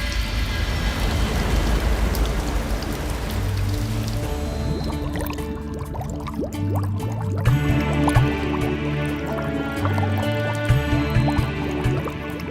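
An object drops into water with a splash, followed by a steady patter of dripping and sloshing liquid that carries on throughout, fairly loud and without any talking.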